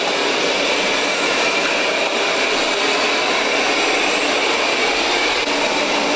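A Roborock S7 Max V Ultra robot vacuum sucks up sugar from the floor with a loud, steady, unbroken motor whir and airflow hiss, heard alone with no talking.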